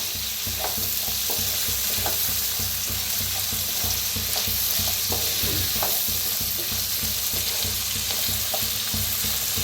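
Vegetables stir-fried in a hot pan with salt, a continuous dense sizzle with a busy rhythm of spatula scrapes and stirring, close and alone with no voices.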